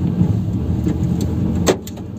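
Honda VFR motorcycle engine idling steadily at low revs, a smooth low rumble heard close with a brief sharper mechanical tap near the end, no voices.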